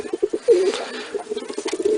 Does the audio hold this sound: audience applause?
no